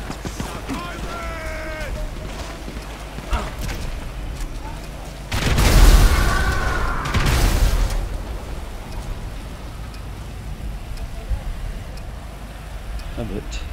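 Grenade launcher blasts in Grand Theft Auto V: a heavy booming explosion with a rumbling tail, then a second, smaller blast, over a steady game background.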